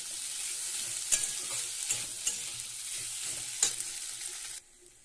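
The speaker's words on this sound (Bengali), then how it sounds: "আলু সেদ্ধটা দিয়ে দিচ্ছি ওর মধ্যে, দিয়ে ভালো করে নাড়াচাড়া করে নিচ্ছি" Mashed boiled potato is stirred around a pan, producing a quiet sizzling hiss punctuated by several sharp scraping clicks of the spoon against the metal, which stop abruptly just before the end.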